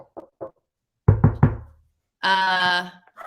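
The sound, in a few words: knocking on wood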